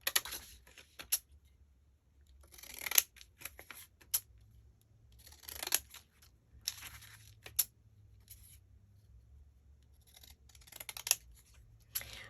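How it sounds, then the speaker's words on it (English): Scissors cut through paper while crafting stamps: bursts of crisp snipping and slicing strokes come in quick clusters separated by pauses, close and clear, with no talking. "these scissors are just eating this paper"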